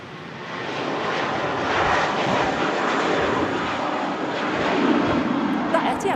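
Etihad airliner passing at Manchester Airport, a loud, sustained engine roar that swells and eases slightly as it goes by, with voices faintly audible beneath it.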